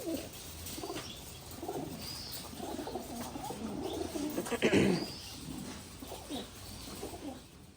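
Racing pigeons, about thirty birds, cooing close by early in the morning, soft overlapping throaty coos in a low steady murmur with one louder flutter midway and faint chirps.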